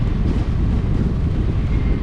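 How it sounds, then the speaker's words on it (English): Heavy wind buffeting roars over a microphone while cycling into a strong headwind on a coastal highway bike trail, loud, constant and low-pitched, with no voices. "This one's against the wind, but I got the wind canceller on"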